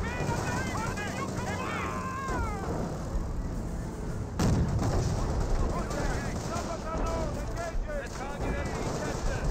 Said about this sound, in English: I got some more artillery raining in this back sector.